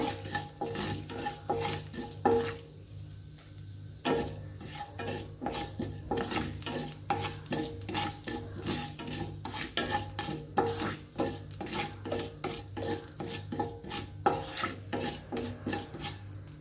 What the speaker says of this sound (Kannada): ನೋಡಿ ಒಗ್ಗರಣೆ ಆಗ್ತಾ ಇದೆ